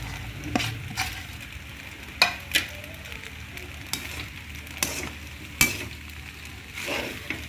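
Leeks and carrots for pasta fry in a pan with a steady soft sizzle, broken by sharp intermittent scrapes and taps of a spoon stirring against the pan, with no voices.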